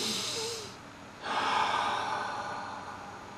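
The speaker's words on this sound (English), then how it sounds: "Just take a breath." A slow, deep breath taken during a guided prayer: a soft breathy burst, a short pause, then a longer airy inhale or exhale that fades gently, close and quiet, with no talking.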